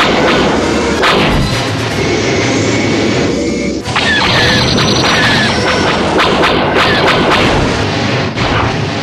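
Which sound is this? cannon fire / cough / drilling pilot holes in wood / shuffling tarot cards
cannon fire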